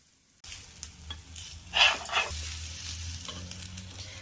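Wheat flour dosa roasting on a pan over a low flame: a soft continuous sizzle begins after a brief silence, with a few light scrapes and one louder clatter midway, close and fairly quiet.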